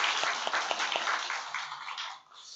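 Clapping from a church congregation at a Korean Sunday worship service welcoming Myanmar guests, a short dense round of applause with a few sharper claps standing out before it thins and fades.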